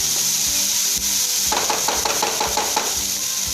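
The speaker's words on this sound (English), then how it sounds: "On medium flame, let the stuffing cook for 5 minutes." Vegetable momo stuffing cooking in a pan over a medium flame: a constant loud sizzle with a run of scraping, stirring strokes partway through, and no talk.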